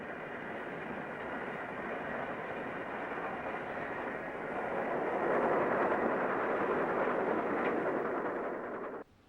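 Steam-era train running down the Cord line near Darlington past the junction with the direct Teesside line, a steady broad rumble that swells toward the middle and stops abruptly near the end, with no voices.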